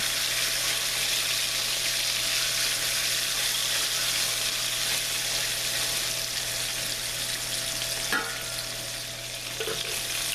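Chicken pieces brown in a hot pan for a King Ranch chicken dish, giving a steady, even sizzle throughout. A couple of soft clinks are heard near the end, and no one talks.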